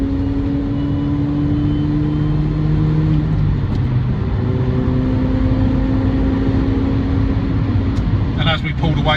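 A MINI Cooper S JCW GP accelerating hard, its engine note rising steadily with a supercharger whine around 5,000 RPM, loud and close from inside the car.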